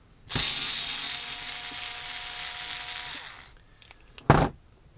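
A power screwdriver whirs steadily for about three seconds while servo screws come out of an old RC crawler, then winds down and ends with a short clack of parts on a table.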